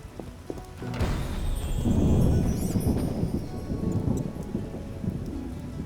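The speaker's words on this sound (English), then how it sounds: "It's raining cats and dogs." Steady heavy rain pours down in a video game (The Witcher), with a low rumble of thunder building after the first second before slowly fading back under the downpour.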